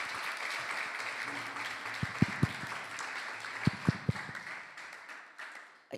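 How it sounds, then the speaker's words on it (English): Scattered audience applause with a few sharp individual claps at a Jagannatha Ratha Yatra gathering in Austin, moderately loud over a steady crowd murmur, tapering off near the end. "Let's give a round of applause for Prabhupada Priya."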